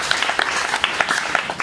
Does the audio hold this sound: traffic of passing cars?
no